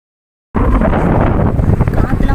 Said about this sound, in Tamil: காற்றுலாம் பார்த்திங்கன்னா பயங்கரமாக அடிச்சிட்ருக்கு